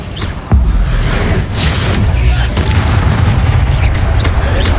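A Bombarda spell explosion in the Hogwarts Legacy video game: a sudden loud boom, then sustained heavy rumbling and crackling debris that fills the rest of the moment.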